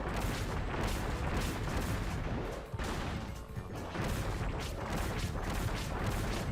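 Repeated bomb blasts and crashing impacts from Kirby: Triple Deluxe fill the clip, dense and loud throughout with a brief dip near the middle, backed by game music.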